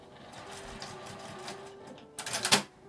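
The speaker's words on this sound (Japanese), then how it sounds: "端から5ミリくらいを縫います。" A sewing machine stitching fabric about 5 mm from the edge while making a small flap pouch. A soft mechanical whir gives way to a short, loud burst of rapid stitching near the end.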